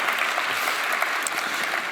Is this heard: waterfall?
no